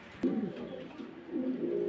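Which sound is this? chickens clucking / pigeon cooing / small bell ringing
pigeon cooing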